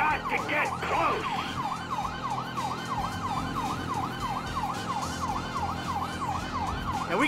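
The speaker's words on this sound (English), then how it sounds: "I don't think they can hear the sirens." A Grand Theft Auto V police siren wails in regular, rapid up-and-down sweeps during a tunnel chase, loud and continuous over a steady car engine drone.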